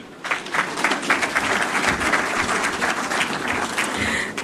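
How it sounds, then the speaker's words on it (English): Audience applause at the launch of the Enhanced NSE Market Place, steady and dense clapping from a sizable crowd that swells quickly and holds for several seconds. "Let's do another round of applause"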